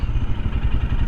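A 2023 Royal Enfield Scram 411 motorcycle engine pulls hard and steady, a loud low rumble with rhythmic pulsing, close by and with no talking.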